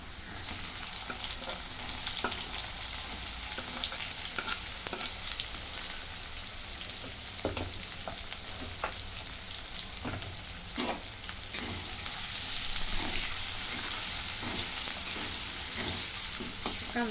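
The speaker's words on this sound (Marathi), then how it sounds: "चांगला भाजून घेते कांदा" Chopped onions fry in a pan for a spinach dish, a steady close sizzle with scattered crackles and occasional spatula scrapes; no talking.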